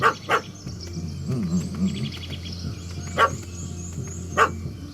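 A dog barks in The Witcher 3, several sharp barks at the start and again later over a low ambient drone, with faint bird calls in the background and no speech.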